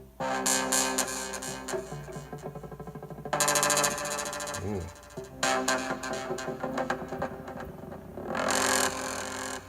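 A ROLI Blocks synthesizer plays bright, buzzy tones with glide, sliding pitch bends between sustained bursts, loud and close with brief pauses between phrases; a voice briefly exclaims.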